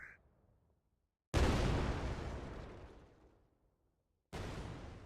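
Cannons fire in the video game Dark Ark, each shot a loud booming blast that rolls off over a couple of seconds, with two bursts heard close together and no talking.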